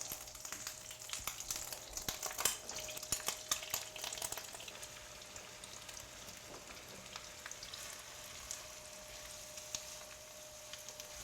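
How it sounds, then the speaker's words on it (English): Onions and celery fry in butter in a pan, a soft, continuous sizzle with faint crackles, close and quiet with no talking. "take your onions and celery, put them right in the pan with the butter"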